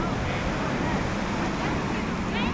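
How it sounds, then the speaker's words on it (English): Ocean waves wash steadily onto a busy beach, a broad continuous surf roar with wind buffeting the microphone and no voices over it. "The sound of them waves"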